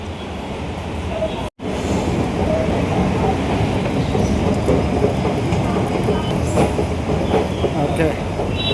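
A Delhi metro train rolls through Shakurpur station with a loud, continuous rumble and rattling wheel clatter, briefly cut by a short gap, and faint squeals as it keeps moving.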